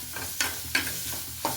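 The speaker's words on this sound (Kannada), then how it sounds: "ಚೆನ್ನಾಗಿ ಈ ಥರ ಫ್ರೈ ಮಾಡ್ಕೊಳ್ಳೋಣ. ತುಂಬ ಕೆಂಪಾಗಬೇಕು ಈರುಳ್ಳಿ ಅಂತ ಏನೂ ಇಲ್ಲ." Sliced onion frying in a pan, a soft continuous sizzle broken by four sharp scraping stirs of a spatula at an uneven pace, close up, with no talking.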